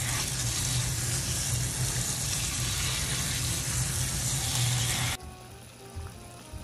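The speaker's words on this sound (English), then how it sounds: "And then we're just gonna rinse our sorrel off." Running tap water rinsing dried sorrel in a kitchen sink, a steady broadband rush lasting about five seconds before the flow cuts off, leaving quieter room noise with faint clinks.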